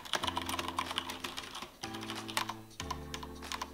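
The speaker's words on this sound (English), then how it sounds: "they return to the sort of clicky feel and sound that happens when their" Clicky mechanical keyboard keys clatter in quick, uneven bursts of close, crisp taps, with short pauses between runs and nothing else in the background.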